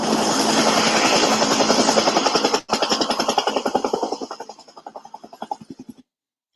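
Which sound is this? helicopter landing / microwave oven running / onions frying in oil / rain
helicopter landing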